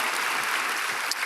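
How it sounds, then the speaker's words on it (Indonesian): A church congregation bursts into applause, a short, dense patter of many hands clapping at moderate volume. "Berikan tepuk tangan kita untuk Tuhan kita."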